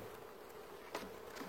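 Honeybees buzz during a summer honey harvest at the hives, a faint, steady drone with a few brief louder passes as individual bees fly close, with no talk.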